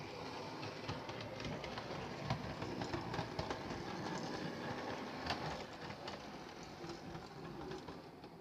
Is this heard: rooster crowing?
no